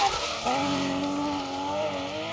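A Porsche 911 rally car drives a Welsh rally stage, its engine note rising and falling through the gears, with tire scrabble and skid noise close by.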